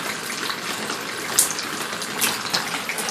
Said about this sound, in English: dripping away up there